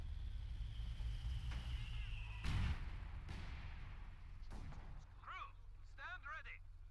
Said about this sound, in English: The 2 mortars are bombarding the British mortar pit.